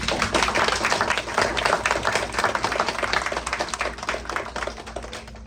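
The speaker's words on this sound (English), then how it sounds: "A round of applause for those teachers." An audience at a first grade school winter show applauds the teachers, a dense sustained clapping from many hands that carries on steadily and eases slightly toward the end.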